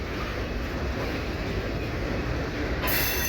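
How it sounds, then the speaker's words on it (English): A coal freight train rolls west with a dense, continuous rumble and faint metallic wheel squeal, steady throughout and brightening slightly near the end. "Coal drag still heading west in the very, very far background."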